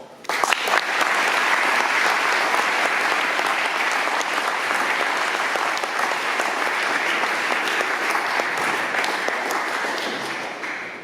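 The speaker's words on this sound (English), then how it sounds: "may I ask for a round of applause for Tom" A lecture-hall audience gives a sustained round of applause at a memorial lecture, dense steady clapping from many hands that holds for about ten seconds before tapering off, heard alone without talk.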